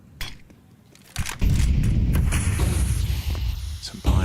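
A loud sniper rifle shot rings out in a professional Counter-Strike match, followed by a sustained boom and rumble of game action, with no speech over it.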